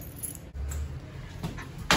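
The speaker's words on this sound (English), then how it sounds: "I already have my keys." A set of keys jangles briefly with faint metallic clinks over low room noise, ending in a sharper rattle at the close.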